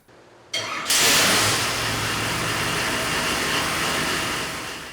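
A USMTS A-Mod race car engine on a dyno cranks briefly, then catches and roars into a loud, steady high idle that holds without a break.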